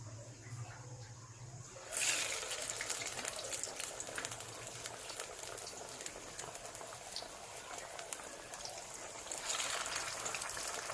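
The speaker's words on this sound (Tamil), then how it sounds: "இப்போ இதை ஆயிலில் ஃப்ரை பண்ணி எடுக்கலாம்" Spinach vadai batter drops into hot oil and starts frying with a sudden sizzle, then a steady, close crackling hiss that swells again near the end.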